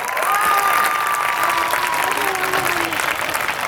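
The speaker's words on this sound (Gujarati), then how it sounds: "એકવાર પાડો તાળીઓ બાળકો માટે" Audience at a school annual function applauding the children, a steady, dense wash of clapping from a large crowd lasting several seconds.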